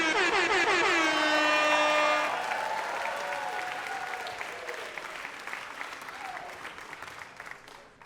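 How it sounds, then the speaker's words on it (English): A long, loud air horn blast rings out in a television studio, followed by sustained audience applause and cheering that gradually fades. "You guys heard that air horn?"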